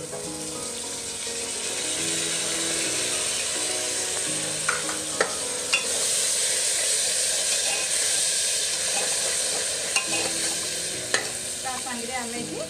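Washed rice frying and being stirred in a pan on low heat for khichdi, giving a steady close sizzle and hiss with occasional soft scrapes and taps of a spoon.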